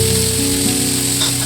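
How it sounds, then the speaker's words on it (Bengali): Potato, raw banana and papaya being fried with ginger in oil, a loud, steady sizzle that runs without a break and has a faint stir partway through. "সবজিগুলো ভালো করে কষিয়ে নিতে হবে আদার সঙ্গে।"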